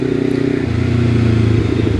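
A motorcycle engine with an exhaust shortened by about six inches idles and revs nearby, a loud, throaty pulsing rumble with a steady rhythmic chug.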